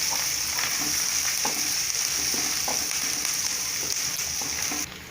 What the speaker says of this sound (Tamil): வெங்காயம் வந்து எண்ணெயில் நல்லா வணங்கி வரட்டும்